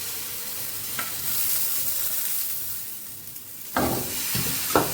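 Egg paratha batter fries in a hot pan with a steady loud sizzle and hiss, broken by a few sharp scraping taps of a utensil toward the end.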